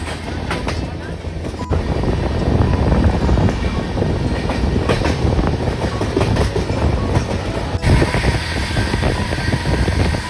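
The Saraighat Express runs after leaving Bardhaman Junction, heard from inside the carriage as a loud steady rumble with rhythmic clacking from the rails and faint voices in the background.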